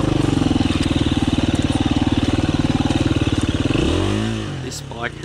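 A KTM 350 EXC-F dirt bike engine runs close and loud with a steady, throbbing pulse, then its pitch sweeps and falls away near the end.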